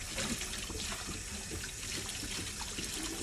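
Tap water runs steadily into a sink to rinse off grease during a product demonstration, a continuous close splashing stream with no talk.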